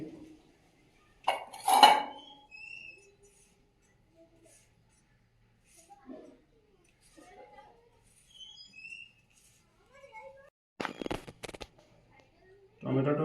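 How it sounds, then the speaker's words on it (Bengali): Tomatoes being washed and cut in a home kitchen, heard as scattered clinks and knocks of a knife and dishes, a louder clatter near the start and a short rush like running water toward the end. "ঠিক গোল গোল করে কেটে নেব টমেটোটা"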